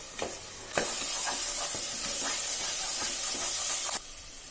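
Onion paste frying in a pan for Dindigul-style chicken biryani, with a steady hissing sizzle that swells loud and bright after a moment and is punctuated by scraping stirs, close and continuous.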